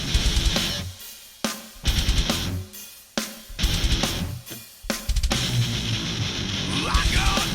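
Heavy distorted electric guitar plays a verse riff in loud, chopping bursts separated by short sharp stops, alone without any talking.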